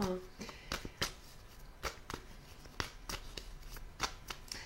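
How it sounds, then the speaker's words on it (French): Belline oracle cards are shuffled by hand in a series of crisp, close riffles and snaps, with quiet room tone between the bursts. "Je vais prendre quelques cartes du Béline pour compléter ce tirage"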